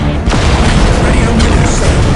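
Big guns of the Imperial Guard fire in the Warhammer 40K Dawn of War Soulstorm video game, a sharp loud boom followed by a dense, continuous rumble of battle noise.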